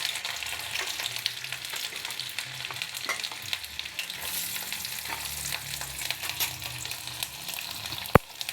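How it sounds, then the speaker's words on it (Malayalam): Garlic fries in hot sesame oil in a pan, a close continuous crackling sizzle with scattered pops and stirring scrapes, and one sharp tap near the end, with no talk. "എണ്ണ ചൂടാകുമ്പോൾ വെളുത്തുള്ളി ഇടണം."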